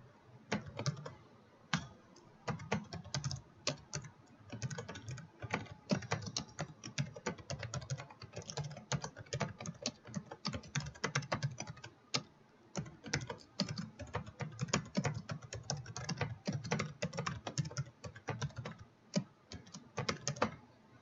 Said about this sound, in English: And then we're going to type in this command.